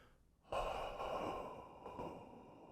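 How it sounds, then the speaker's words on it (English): A long, slow exhale through the mouth during an upper-chest breathing exercise, close and soft, starting abruptly and trailing off steadily over about two seconds. "Then we're going to do our long exhale here."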